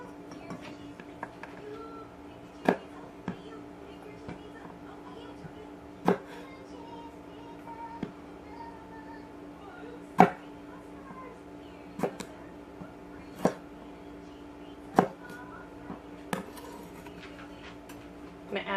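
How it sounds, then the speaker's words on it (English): Green beans cut into bite-sized pieces with a knife on a cutting board, sharp isolated chops every second or two, close and clear against a quiet kitchen background with a faint hum. "we're going to cut them again into bite-sized pieces and try and be as uniform as possible"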